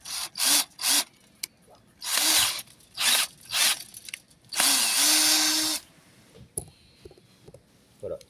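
A power drill bores into wood in a series of short, close bursts of whirring and grinding, with one longer steady run, separated by quiet gaps.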